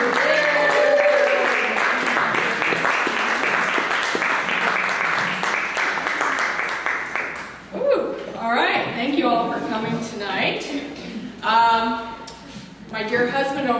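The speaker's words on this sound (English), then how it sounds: "Give her a round of applause" Applause and cheering from a comedy club audience greet a stand-up comedian, a dense wash of clapping for several seconds before thinning into scattered claps and chuckles under a voice.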